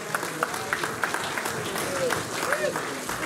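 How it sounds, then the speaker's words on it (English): Round of applause for performers Levi and Dexter at a rockabilly club show: moderate, somewhat distant clapping with a few distinct sharp claps, and voices and cheers mixed in. "give him a round of applause."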